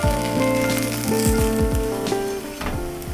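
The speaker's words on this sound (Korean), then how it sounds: "기름이 모자른 것 같아 추가적으로 기름을 둘러주었습니다." Seafood and scallion pancake frying in a pan with freshly added oil, a steady close crackling sizzle that runs the whole time with no talk.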